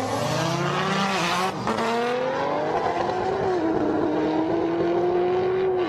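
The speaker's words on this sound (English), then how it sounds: "Comes Brian Spackman in that GTR. It looks fast" A Nissan GT-R race car on a top speed run roars past, its loud engine note sweeping steadily upward and then dropping as the car passes close by, continuous and dominating without any talk.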